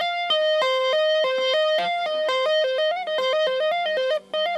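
Electric guitar tapping sequence with the first finger shifting position instead of holding an anchor note, a fast run of bright, clear single notes at steady rhythm, played alone with a slight effects tone.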